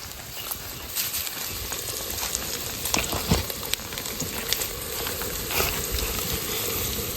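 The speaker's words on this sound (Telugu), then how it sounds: "హనుమకొండ నుంచి తెచ్చిన అల్లం వెల్లుల్లి పేస్ట్ అయితే దీన్ని వేసుకుందాం" Ginger garlic paste fries in a pan while preparing a village-style chicken curry, giving a steady close sizzle with scattered pops and crackles.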